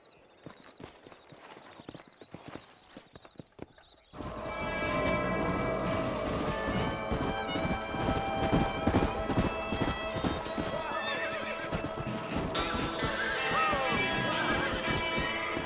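Horses galloping with rapid hoof clatter and occasional whinnies in Red Dead Redemption, loud and busy after a quieter opening, with background music and voices mixed in.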